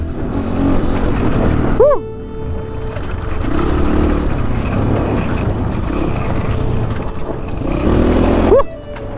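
An adventure motorbike rides an off-road trail that is slippery and sandy after rain, its engine droning loudly and steadily while revving rises and falls, with another bike passing near the end.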